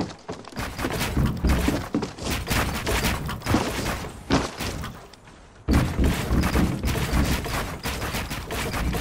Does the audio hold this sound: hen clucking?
no